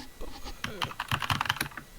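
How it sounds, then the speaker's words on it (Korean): Rapid keyboard typing clatters close by on an open microphone during an online class, a quick irregular run of key taps under a faint background murmur. "누가 이거 키보드 소리가 들리는데요"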